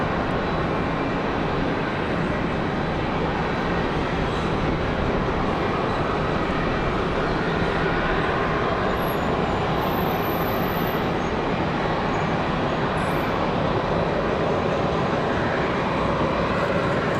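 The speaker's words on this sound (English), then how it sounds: "So we'll see the departure of that A319." A United Airbus A319 jet departs Raleigh-Durham airport, its steady broadband engine roar filling the whole stretch at a constant, fairly loud level, with no voices.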